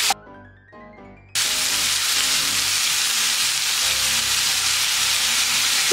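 Garlic scapes and meat fry with tomato, carrot and soy sauce, a brief musical jingle giving way to a loud, dense, continuous sizzle close by, no voices.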